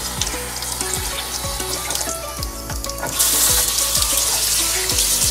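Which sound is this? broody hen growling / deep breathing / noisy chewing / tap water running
tap water running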